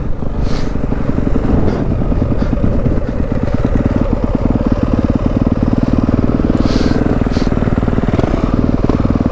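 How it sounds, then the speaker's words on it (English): A dirt bike engine revs loud and close, a continuous buzzing roar with rough fluctuations, as riders do wheelies in the snow during a snowstorm. "Doing wheelies in the snow and shit."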